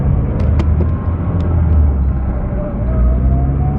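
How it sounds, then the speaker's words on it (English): Second-gear transmission whine from a Mazdaspeed3 with aftermarket motor mounts while driving, a thin, rising whine over a loud, deep engine and road rumble heard from inside the cabin. "Second gear whines so loud inside the cabin."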